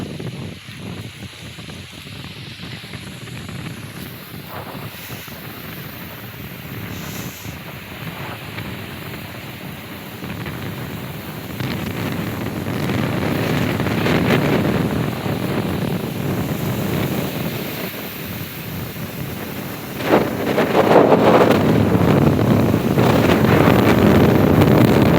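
Strong gusty wind blows straight onto a handheld phone microphone during rain, producing loud rumbling buffeting that builds and surges over about twenty-five seconds, with no voices.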